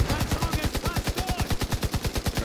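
Rapid automatic gunfire from a raid in the video game The Division 2, a steady rattling burst of evenly spaced shots that runs loud and unbroken from start to finish.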